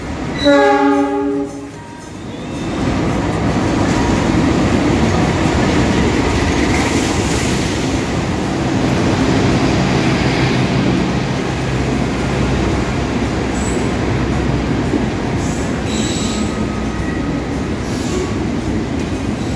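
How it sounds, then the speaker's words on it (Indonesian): The Turangga passenger train from Bandung rolls into Surabaya Gubeng station in Indonesia with a sustained rumble and clatter of wheels, a horn sounding early on and faint squeals as it slows. "Baru saja tiba di stasiun Surabaya Gubeng adalah kereta api Turangga dari stasiun Bandung tujuan Surabaya Gubeng"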